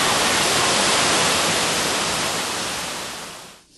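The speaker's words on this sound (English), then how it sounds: "waterfall reflects just like silvery white wings, and the cool water spray is just like a nature spa on our faces" Steady, dense roar of a waterfall throwing cool spray at Shuangliu Forest Recreation Area, a close, full hiss of falling water that holds constant and then fades out at the very end.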